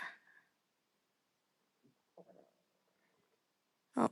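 Stomach rumbling during a live stream: faint, short gurgles spread through a quiet room, ending in a brief louder burst, with no talk over them.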